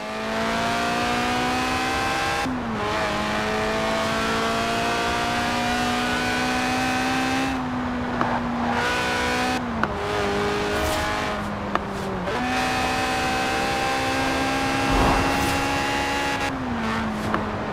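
A Lotus Elise Sport 190 in Forza Horizon 4, a mid-engine, rear-wheel-drive roadster tuned and stripped out for track days, drones steadily as its engine climbs through the revs, dipping briefly at each of several gear changes, with no talking.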